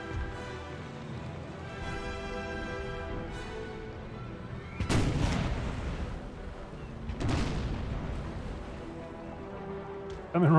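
Ship cannons boom in a naval battle in Empire: Total War, two heavy broadside blasts rolling out over a steady background of music and battle ambience, with someone talking at times.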